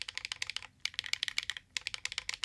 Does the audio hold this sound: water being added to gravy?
no